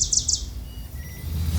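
Wild birds sing in the Costa Rican rainforest: three quick, bright, high chirps at the start, then a faint thin trill, with a low rumble beneath.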